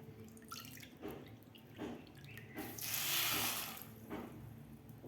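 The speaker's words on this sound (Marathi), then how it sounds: "सव्वा वाटी पाणी घालायचं आहे सव्वा वाटी पाणी घेतलेलं आहे" Water trickles and splashes into a pan of sugar for syrup, swelling into a fuller pour near the middle before tapering to light dripping.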